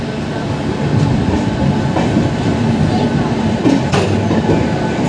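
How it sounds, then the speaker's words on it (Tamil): A train arriving at Thanjavur Junction rumbles steadily with a rolling clatter of wheels on rails, loud and close, with faint voices mixed into the continuous din. "ட்ரெயின் வருது."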